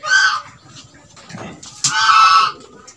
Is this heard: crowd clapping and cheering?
no